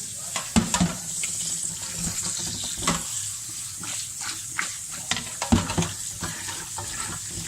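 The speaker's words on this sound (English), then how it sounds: "I'm going to wash it once again." Food is rinsed under running tap water in a kitchen sink, a steady splashing stream broken by clattering knocks and sharper handling sounds, close and fairly loud.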